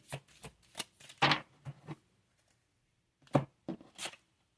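Moonology oracle cards are shuffled by hand in quick, soft riffling bursts. Several crisp flutters come close together, a brief silence follows, then a few more. No voice is heard.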